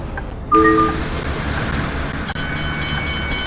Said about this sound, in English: Oh, I hear a train. Level crossing.